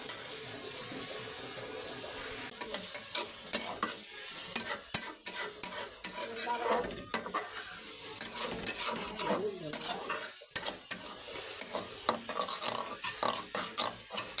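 Eggs frying lightly in a pan, stirred with a utensil: steady hiss of sizzling oil broken by frequent scraping and clattering strokes, close and fairly loud, with no voice.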